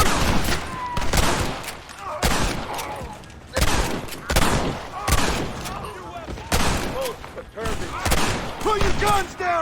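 Dense, rapid gunfire crackles through a Red Dead Redemption shootout, volleys of rifle and pistol shots overlapping in loud bursts with brief lulls, shouted voices mixed in.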